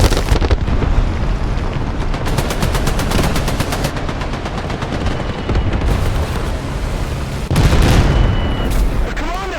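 Bombs exploding close by during War Thunder tank combat, heavy booming blasts mixed with rapid machine-gun bursts and rattling gunfire, loud and continuous throughout, with no talking.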